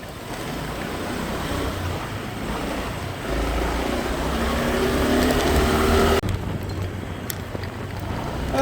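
Sea surf on the shore of Koh Larn island, a steady broadband wash of waves with wind rumble, fairly loud and continuous, easing slightly near the end.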